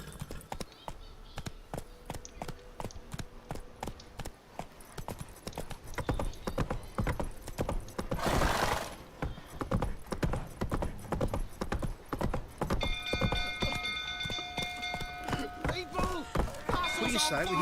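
Roach, a horse in The Witcher 3, gallops with a steady run of loud, close hoof clip-clops, then a brief whinny-like burst, and the hooves keep pounding as tonal game sounds come in toward the end.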